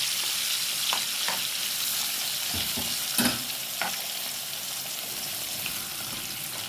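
Liver frying in a pan with coriander, cumin, chili, lemon and vinegar: a constant bright sizzle with a few stirring scrapes and a clunk near the middle, no one speaking.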